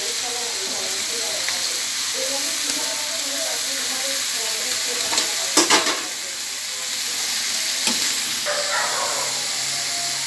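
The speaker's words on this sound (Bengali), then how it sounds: "এখন আমি এগুলাকে একটু এগুলার সাথে ভাজা ভাজা করব" Chopped papaya, snake gourd, long beans and other vegetables sizzle steadily in a hot pan while being stirred, with a few louder scraping clatters and no talking.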